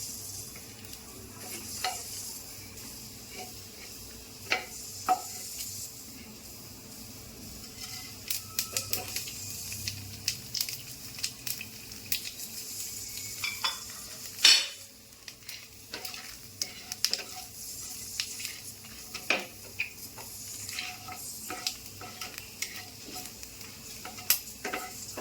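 Panch phoron spices frying with dry red chilli and bay leaf in hot oil and ghee, a steady close sizzle with scattered sharp crackles and pops and one louder spatter midway, no talking.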